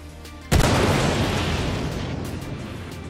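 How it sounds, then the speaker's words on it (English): SAS-4 missiles strike an Aurora MR ship in a space combat game, one sudden loud boom followed by a long, dense, roaring rumble that slowly fades over a few seconds. "And two SAS-4 missiles one more time to make sure it wasn't just a lucky hit."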